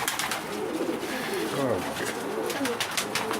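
Homing pigeons, including an old white Homer, coo in soft, repeated calls at close range, with a brief spoken exclamation at the start.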